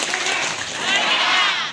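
A crowd at a PDIP party branch inauguration applauds a speaker, a short burst of dense clapping that swells toward the end, with a voice faintly mixed in.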